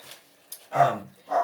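A dog barks twice nearby, with a short gap between the barks.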